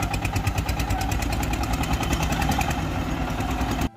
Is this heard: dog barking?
no